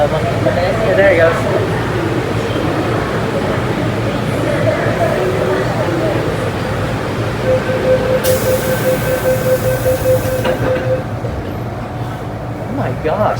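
An MTR M-Train on the Tsuen Wan Line pulls out of the station with a loud, steady rumble of wheels and motors, a brief rising tone and a hiss near the end, as people chatter nearby.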